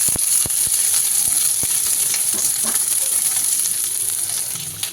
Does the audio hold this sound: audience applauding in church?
no